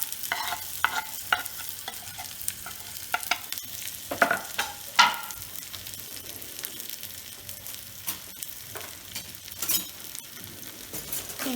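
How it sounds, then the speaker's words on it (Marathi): Grated coconut and chilies sizzle in a hot pan with curry leaves while being stirred, a continuous frying hiss broken by repeated scraping and clinking strokes of the spoon against the pan. "आता आपल्याला खोबरं आणि मिरची टाकून घ्यायची."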